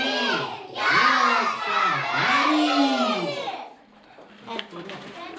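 A crowd of children shouts together at a kindergarten New Year's party, loud rising-and-falling chanted cries filling several seconds before fading to a lower murmur of voices.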